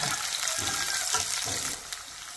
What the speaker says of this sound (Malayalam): നല്ല പോലെ മൂക്കട്ടെ ഇത് നല്ലപോലെ മൂത്ത് വരുമ്പോഴേ നമുക്ക് വറ്റൽമുളക് ഇട്ട് കൊടുക്കണം